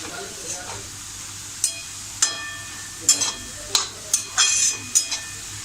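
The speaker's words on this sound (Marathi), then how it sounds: "हे बघा 2 मिनिटांनी आपण जरा हिला व्यवस्थित अशी छान परतून घेऊया" Drumstick leaves (shevga) stir-fried in a pan, a low steady sizzle broken by several sharp spatula scrapes and knocks against the metal, close and irregular, no speech.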